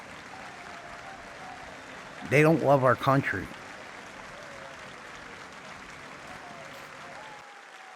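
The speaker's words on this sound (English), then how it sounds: "But the Democrats, they stood straight up and applauded." An audience in a political speech setting breaks into a brief, loud burst of applause and cheering that fades quickly, with someone speaking around it.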